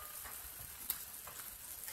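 Tomato and other ingredients for Tunisian ojja gently frying in a pan, giving a steady, faint sizzle with small crackles throughout and no talking.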